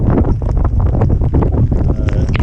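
Strong wind of about 30 miles an hour, gusting higher, buffets the microphone with a loud, steady roar and rumble, broken by gusts, with pouring rain throughout during an elk hunt.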